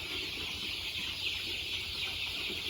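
Chickens cluck faintly and continuously on a farm where they are raised, with a constant hiss of background noise.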